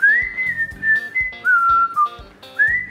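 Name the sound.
person whistling a melody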